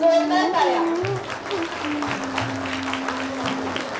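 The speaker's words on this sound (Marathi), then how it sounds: "सर्वांसाठी एकदा जोरदार टाळ्या." Loud applause from a crowd for students at a university sports day prize ceremony, dense sustained clapping that starts after a brief voice and continues with a steady tone underneath.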